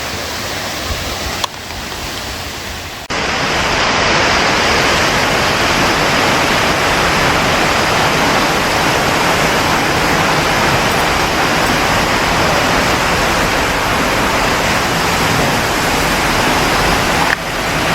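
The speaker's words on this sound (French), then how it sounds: "on arrive à la première cascade" A waterfall in Martinique roars steadily and loudly close by, a dense rushing wash of water that swells in after a quieter opening.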